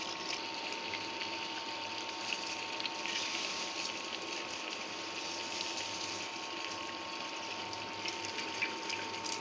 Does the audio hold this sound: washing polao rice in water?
yes